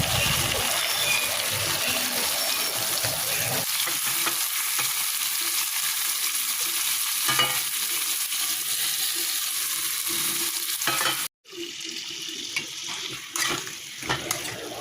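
Chicken pieces sautéed and stirred in a spiced masala with potatoes in a pan, a loud, continuous sizzle and frying crackle with scraping stirs, which briefly cuts out near the end before resuming more faintly.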